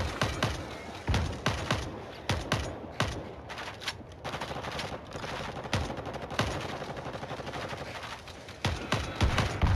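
Rapid bursts of assault rifle fire in the zombie shooter World War Z, loud and close, coming in repeated volleys with short pauses and no talking over them.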